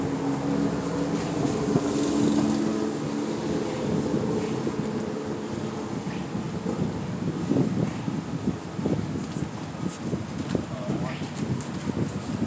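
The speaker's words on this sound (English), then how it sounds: "it's windy out here" Strong wind roars and buffets the microphone continuously outdoors, a loud rumbling wash with a voice faintly mixed in underneath.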